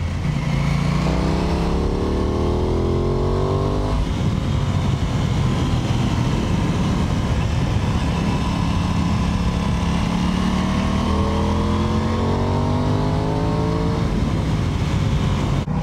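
Aprilia Tuono 660 Factory motorcycle engine pulling hard through two clear climbs in revs, each a rising howl lasting a few seconds, with steady loud cruising drone between and after, close and without talk.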